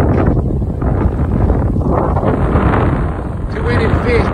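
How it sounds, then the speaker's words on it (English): Strong wind buffets the microphone with a loud, continuous rumbling roar that barely lets up. "It's too windy to fish."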